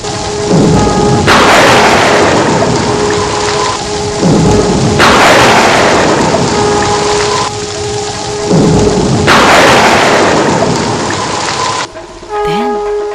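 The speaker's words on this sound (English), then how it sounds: "It was raining heavily on that night." Heavy rain roars loudly and continuously, with rumbling thunder rolling through it and pulsing in waves.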